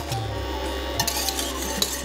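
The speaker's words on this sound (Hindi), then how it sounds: "साथ साथ चलाते रहिए, लम्स नहीं पड़ने चाहिए साहब" Jowar flour phirni being stirred in a pot, a spoon scraping and tapping against the metal with a few sharper clinks over a low steady background hum.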